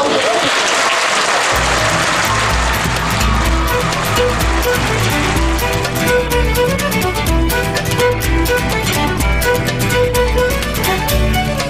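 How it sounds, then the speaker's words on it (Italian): A theatre audience of parents claps briefly at the start of an evening show, a short burst that is quickly swallowed by loud, rhythmic music with a heavy pulsing beat. "facciamo subito un applauso"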